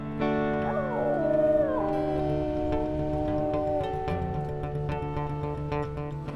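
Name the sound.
wolves howling in a video game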